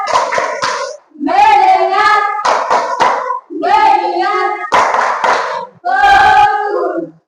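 A classroom group plays the 'tepuk fokus' clap game, with sharp claps in bursts alongside loud voices chanting in rhythm, separated by short pauses.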